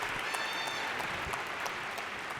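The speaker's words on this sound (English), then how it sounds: "That's worthy of applause" Quiet, steady audience applause at an awards ceremony, soft even clapping heard from a distance with no voices over it.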